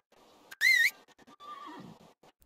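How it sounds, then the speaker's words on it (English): A horse in Medieval Dynasty lets out one short, loud, shrill whinny that fades into a softer snorting nicker, with quiet game ambience around it. "I hear you, horse."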